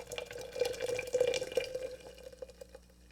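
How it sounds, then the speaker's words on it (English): Water pours into a Mr. Coffee French press over ground coffee, a steady close trickle that tapers off after a couple of seconds. "And we're going to pour our water in again."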